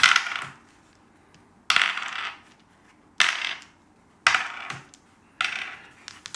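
A bucket of dice is rolled for a Warhammer 40k game, five close clattering bursts in a steady rhythm with quiet gaps between them and no voices.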